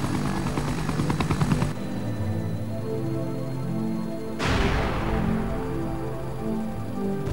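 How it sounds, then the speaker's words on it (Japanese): Brad's helicopter lifts off in Resident Evil Director's Cut on PlayStation, a rapid rotor chop giving way to a sustained engine drone, then a sudden roaring swell, loud and without talk. "クリス、ジル、レベッカを回収して、ブラッドのヘリが飛び立ちます。"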